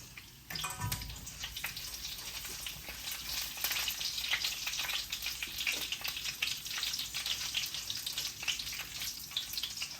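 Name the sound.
mustard seeds and spices sizzling in hot oil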